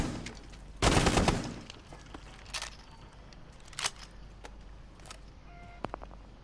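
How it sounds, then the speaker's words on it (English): Gunfire in Rainbow Six Siege, shot through a wall: one loud burst near the start, then several fainter single shots and clicks scattered over a quiet background. "the pulse is just going to shoot him through the wall."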